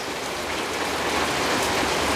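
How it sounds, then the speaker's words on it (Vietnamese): Steady, dense rain pours down close by, a continuous even hiss of drops on surfaces with no pauses and no voices. "Trời mưa quá mình đưa quay là trời mưa đó."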